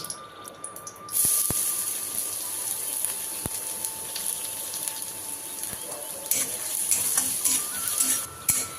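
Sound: carrots dropped into hot oil, frying

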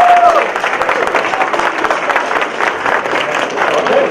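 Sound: audience applause

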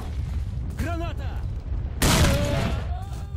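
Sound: grenade explosion in the video game Stalker: Shadow of Chornobyl

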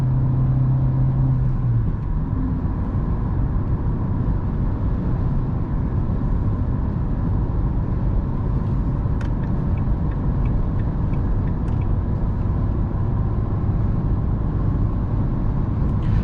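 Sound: Renault Megane 3 car driving uphill on LPG, fourth gear

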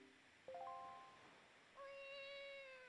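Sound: cat meowing in The Legend of Zelda: Wind Waker video game

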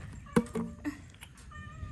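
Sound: cat meowing

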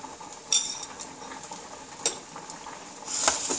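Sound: tempering spices in hot oil, stirring in pan

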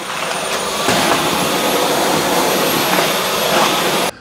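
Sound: Dyson V12 Detect Slim cordless vacuum cleaner running

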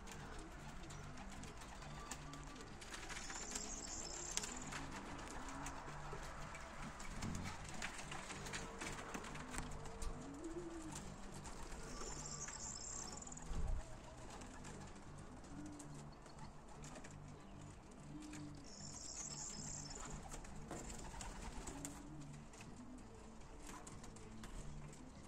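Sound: young racing pigeons cooing in loft

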